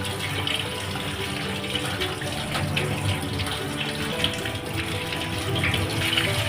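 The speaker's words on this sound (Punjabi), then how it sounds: "ਹੁਣ ਆਪਾਂ ਇਹਨਾਂ ਨੂੰ ਵਾਸ਼ ਕਰਾਂਗੇ" Roasted eggplants for baingan bharta being rinsed under a running kitchen tap, a steady close splashing stream of water continuing throughout with no talk.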